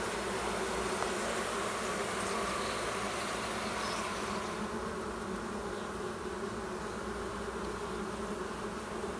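A dense, steady buzz of many honeybees in an open hive fills the space, close and continuous, a droning swarm humming with no pauses.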